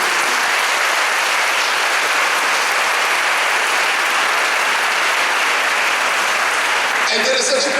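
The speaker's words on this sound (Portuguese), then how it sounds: "Convido você a aplaudir, porque é para você e para nós." A church congregation at a Catholic Mass applauds in a long, even, full-room round of clapping that continues without a break, with a few voices surfacing at the very end.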